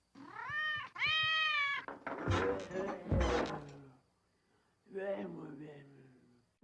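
A cartoon cat in The Simpsons gives a drawn-out, wavering meow, followed by muffled thumps and another shorter yowl.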